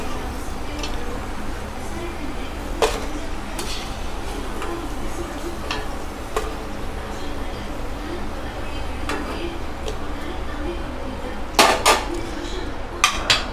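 Okra slices fry in a pan for vendaikkai fry and are turned over, with sharp metal clinks and taps of a utensil against the pan standing out over a continuous low frying hiss.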